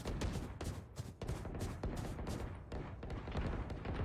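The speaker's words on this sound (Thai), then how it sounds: "เสียงปืนเสียงปืน" Rapid bursts of video game gunfire crackle almost continuously, dense volleys of shots with a few louder cracks standing out, loud and close.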